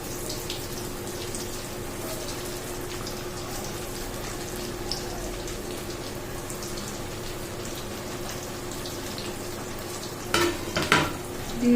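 Food frying in a pan of oil, a continuous low sizzle at an even level throughout, close by, with a few louder clatters near the end and no talking.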